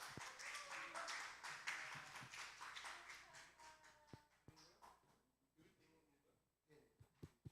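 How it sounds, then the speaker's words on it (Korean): A congregation at a Korean church youth service bursts into a burst of clapping that fades out after a few seconds, followed by scattered taps and a quiet room. "박수 한번 쳐주세요."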